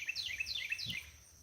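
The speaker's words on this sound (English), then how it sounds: "I've heard a lot of birds." Birds chirp outdoors near a bird feeder at sunrise in a quick series of high, thin, falling chirps. The calls are fairly soft and sound alone against a quiet low background.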